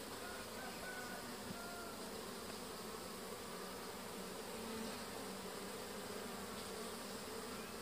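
A honeybee swarm buzzes inside a beehive box, a dense, continuous drone of many wings, faint and steady throughout with no voices.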